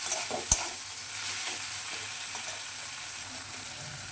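Grated coconut lightly frying in a pan, a steady soft sizzle with gentle stirring scrapes and one sharp clink of a utensil near the start.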